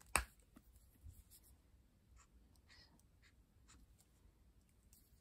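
Quiet scratching of a pencil or pen drawing on paper, a sharp knock at the start followed by soft intermittent strokes close by.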